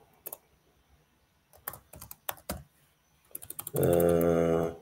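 Someone types a message on a computer keyboard, with close, crisp key clicks coming in scattered bursts and short pauses, followed at the end by a voice starting to speak.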